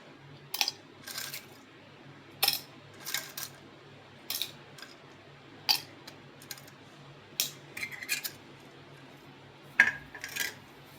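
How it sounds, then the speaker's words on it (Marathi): Ice cubes drop one after another into a glass, giving a series of sharp, close clinks and rattles separated by short pauses in a quiet room. "सगळ्यात पहिल्यांदा मी ग्लासमध्ये आईस क्यूब टाकणार आहे बघा."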